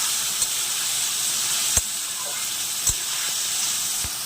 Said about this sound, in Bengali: রাইসের ভাজাগুলো বসিয়ে দিয়েছি। বিনস, গাজর আর অল্প একটুখানি এই যে মটরশুঁটি